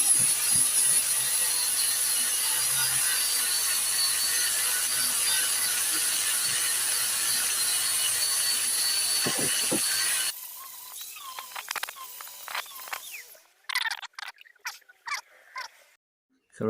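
An old 1.9 saw blade cuts through small metal bumper and over-rider parts for a Simca Aronde, giving a steady, loud rasping drone for about ten seconds before it stops, followed by scattered clanks and handling noises.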